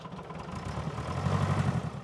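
A farm tractor's engine idles with a steady low rumble, close and moderately loud, with no talking over it.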